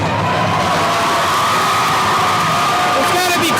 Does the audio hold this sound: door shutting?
no